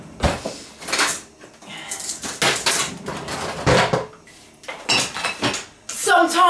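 A fork mashes banana in a bowl for a homemade hair mask, giving repeated sharp scraping clinks of metal on the dish in irregular bursts, close and fairly loud.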